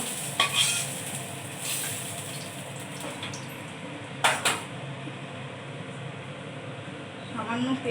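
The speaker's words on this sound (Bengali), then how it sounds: "এই আমার বেগুন ভাজা হয়ে গেছে" Eggplant pieces fry in oil in a pan, a continuous close sizzle with occasional clinks of a utensil stirring and lifting them, while a person talks intermittently.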